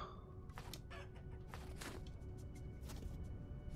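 Chickens in the survival game Vintage Story cluck in short, scattered bursts against a steady background, fairly quiet and with no talk over them.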